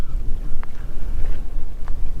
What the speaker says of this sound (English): Got lots of wind.